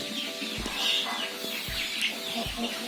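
Chickens in a coop suffering a respiratory illness give hoarse, rattling, snoring calls amid faint clucking, with a few short low knocks in the background.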